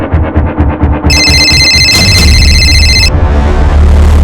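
A telephone rings with a bright, high electronic trill over a rhythmic low thumping, the ring lasting about two seconds before cutting off.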